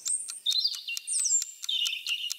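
A European robin sings a short varied phrase of thin, high warbling notes with quick chirps, clear and alone against silence, played as a quiz question on a biodiversity TV show.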